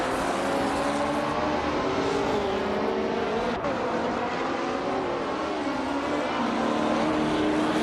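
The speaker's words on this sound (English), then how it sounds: "Platinumera is driving a 1967 Simca Rally 2, a classic rally car known for agility." A 1967 Simca Rally 2 classic rally car races with a loud, steady engine roar and shifting revs throughout, close and continuous with no talking.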